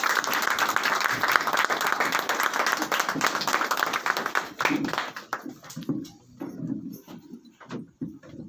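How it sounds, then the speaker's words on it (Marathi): A church congregation claps in dense, sustained applause to welcome a pastor, the clapping thinning out to scattered claps toward the end. "पण आपण सर्वजण मिळून जोरदार टाळ्या"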